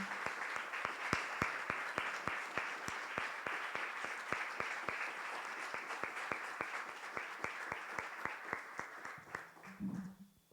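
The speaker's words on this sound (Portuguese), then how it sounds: "Pode aplaudir ao Senhor por isso." Church congregation applauding to the Lord in rhythmic, steady unison clapping, fairly near and moderately loud, with a brief voice near the end.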